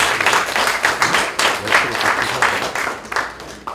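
A crowd applauds at a political meeting in Korea, loud and close, with uneven bursts of clapping that rise and fall over a few seconds.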